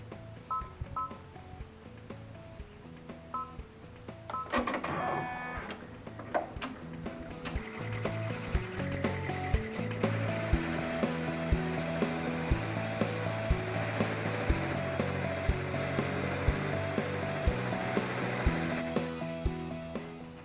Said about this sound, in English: Now we're ready to stitch.